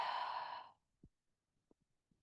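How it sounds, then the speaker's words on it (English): A person in a yoga practice takes a deep breath and releases a long, airy exhale that fades out, followed by quiet soft thumps, close and without speech. "So deep breath in, longer exhale out."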